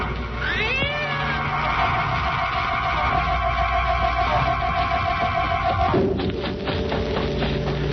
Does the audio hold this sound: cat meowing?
yes